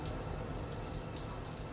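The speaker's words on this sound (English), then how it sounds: "Hears the shower going upstairs." Shower running upstairs in a house, a steady hiss and patter of falling water, faint and continuous, with no voices.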